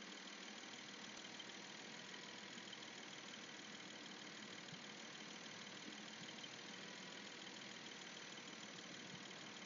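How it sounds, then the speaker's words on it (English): A 2002 Porsche Boxster S with a 3.2L engine idles steadily after a fuel-trim fault repair, a constant even hum with no revving and no voices. "it's running really nice now. And the idle is super steady."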